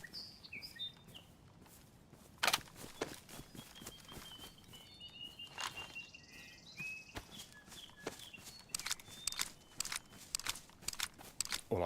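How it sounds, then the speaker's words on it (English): Footsteps of infected in DayZ on the Chernarus map, a string of faint, irregular crunching steps on woodland ground with scattered birdsong and chirps overhead, quiet and fairly distant. "Well, I heard the footsteps, which again, they do sound like infected."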